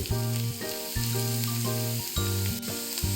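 Ivy gourd stir-fries in a hot pan with green chilli, curry leaves, cumin and onion, giving a loud continuous sizzle broken by rhythmic scraping strokes as the vegetables are stirred, with no talking.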